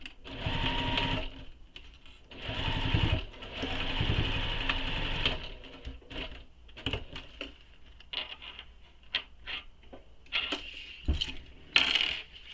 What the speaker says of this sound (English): I'm going to take this and baste it in place, again, just so nothing shifts on me.